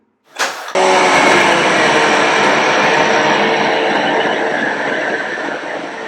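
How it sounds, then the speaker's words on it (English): A DEWALT chainsaw starts after a brief quiet moment and cuts through wood with a loud, steady, close motor whine that holds nearly unchanged to the end. "You always want to let the saw do the work, so I wasn't pushing down very much and it just pulled right through there."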